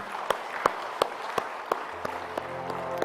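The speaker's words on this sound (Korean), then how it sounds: "우리가 축복하는 박수 한번 힘차게 하십시다" A church congregation claps during a Sunday service, a few distinct loud claps ringing out in a steady rhythm over a thinner background, followed by a low sustained organ or keyboard tone near the end.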